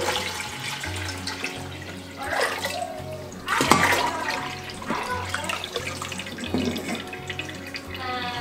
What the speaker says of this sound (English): So now I am going to set up the Berkey and fill it,